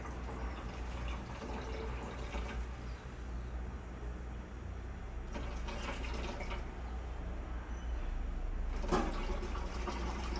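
Caustic soda solution poured into a bottle of warm oil, a continuous, fairly quiet gurgling liquid pour with a slight rise and a brief splash near the end.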